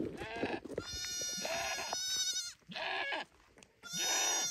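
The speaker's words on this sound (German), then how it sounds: "Hier gibt es Babyziegen." Baby goats bleat loudly and repeatedly at a desert nomad camp in the Moroccan Sahara, with several overlapping, wavering cries separated by short pauses.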